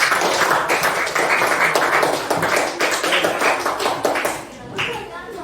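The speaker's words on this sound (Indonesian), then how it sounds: "kita tepuk tangan untuk kita semua kelompok" A classroom group of students claps together, a dense steady patter of hands lasting several seconds before thinning out near the end, with voices mixed in underneath.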